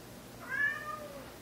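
A cat gives a single short, clear meow in the middle, close by and moderately loud over a faint steady hum, with no talking.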